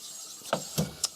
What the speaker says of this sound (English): I'm going to chamfer the edges.